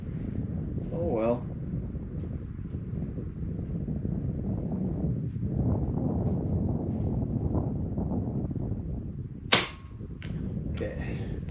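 A Hatsan Flash air rifle fires a single sharp, loud crack at outdoor targets, heard once near the end of the clip over steady wind noise, with brief quieter sounds around it.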